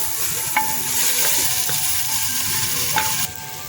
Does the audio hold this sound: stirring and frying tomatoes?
yes